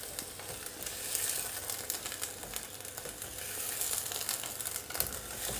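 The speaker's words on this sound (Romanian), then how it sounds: "Am pus carnea la prăjit." Beef frying in a pan on a stovetop gives a steady, dense sizzle with faint crackles, close and continuous, without any voices.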